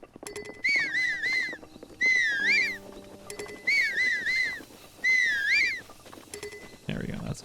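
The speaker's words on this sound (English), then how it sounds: "Unfortunately, you have to listen to Link whistle constantly." Link whistles in repeated rising-and-falling phrases while sprinting endlessly across open ground in the video game Breath of the Wild. Four clear bursts of tune sound over background game sounds.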